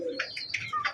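Pigeons kept as a breeding pair with their young give a few short calls with brief pauses between them, clear and fairly close but soft.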